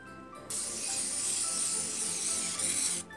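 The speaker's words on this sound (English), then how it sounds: "Always want to spray Pam on your cookie sheet so that your cookies don't stick." Pam cooking spray hisses from an aerosol can onto a cookie sheet in two close, continuous bursts, the second one short, with brief quiet before and after.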